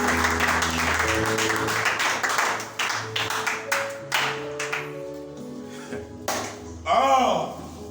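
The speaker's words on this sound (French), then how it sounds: "en lui donnant une salve d'acclamation." A church congregation applauds during a bishop's sermon, with bursts of clapping that rise and fall over sustained music and some voices, ending in a final swell.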